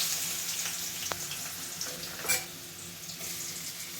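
Chopped onion frying in a pan for pav bhaji gives a steady, moderate sizzle with a few faint clinks and stirring sounds and no voices.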